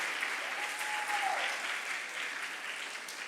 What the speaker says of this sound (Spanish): Fuerte, fuerte aplauso